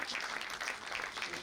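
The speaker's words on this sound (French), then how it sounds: "On les applaudit pour les encourager, s'il vous plaît." A short burst of applause, moderate clapping from a small crowd, fairly even throughout.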